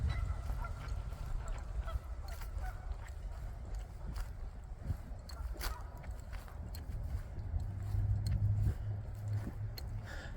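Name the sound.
geese honking at a state park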